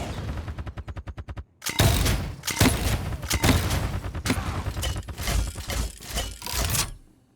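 Grenade explosions from Betty la Bomba in Paladins, a rapid string of booming blasts after a ticking mechanical lead-in, loud and close with the bursts overlapping, then tapering off at the end.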